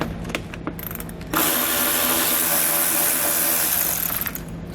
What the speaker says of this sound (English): I want to grab a T40 Torx bit and we'll pull that cargo tie down out